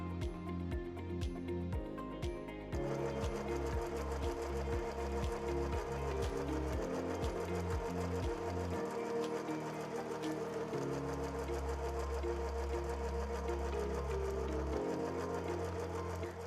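A sewing machine stitches a coiled rope basket turned at an angle, its rapid mechanical chatter running steadily and close, pausing briefly and shifting pitch between bursts of stitching.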